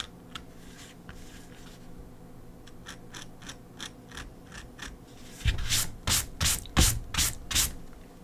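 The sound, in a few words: scraping on a drawing of gryphon feathers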